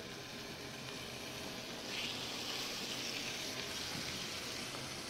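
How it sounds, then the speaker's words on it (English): Pork sizzling as it hits hot oil in a pan, a steady broadband hiss that swells slightly partway through and holds at a moderate level, with no voices. "I'm adding a little bit of oil. I'm gonna drop that pork in there."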